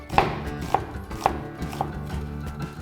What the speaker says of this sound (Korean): 그 다음에 최대한 얇게 채를 썰어 주세요.